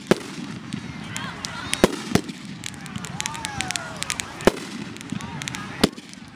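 A 500 gram firework cake fires off, with sharp pops and crackles spaced across the clip over a background of whistling trails, while people talk nearby.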